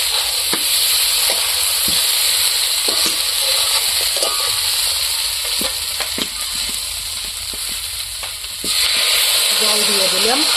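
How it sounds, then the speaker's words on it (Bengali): Cauliflower and potatoes frying with spices in a pan, giving a dense, continuous sizzle with scattered ladle scrapes and clicks as the pieces are stirred, the hiss swelling louder near the end. "মশলার সাথে কত সুন্দর ভাজা হয়ে গেছে ফুলকপি আলুতে"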